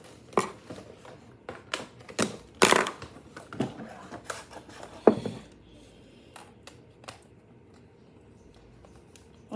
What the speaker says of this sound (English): Now I gotta cut this tail off.